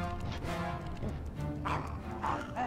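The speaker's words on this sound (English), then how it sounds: "Don't bark at me." Dog barking in a video game crypt room, several sharp barks and yips sounding over a dense, busy game soundtrack, moderately loud and close.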